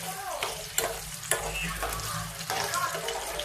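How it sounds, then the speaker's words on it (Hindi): Small potatoes frying in oil in a pan, a steady sizzle with periodic scraping and stirring bursts from a spatula, close and fairly loud, no voices. "गोल्डन ब्राउन होने तक हम इस आलू को फ्राई करेंगे।"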